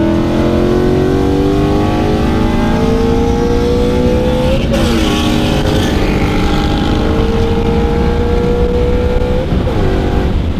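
A tuned Ford Mustang GT with basic bolt-ons, making about 450 horsepower on pump gas, revs loud and close, its engine pitch climbing steadily through the gears with brief shift breaks and no talk.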